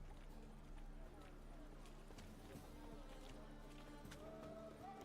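Horse hooves clip-clop in The Witcher video game, a quiet rhythmic trotting under game music and ambience.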